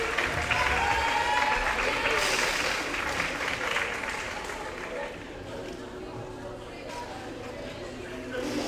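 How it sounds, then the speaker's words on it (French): Crowd applauding at a roller derby match, a burst of clapping that slowly thins out, with voices and an announcer speaking over the dwindling applause. "On va l'applaudir très fort"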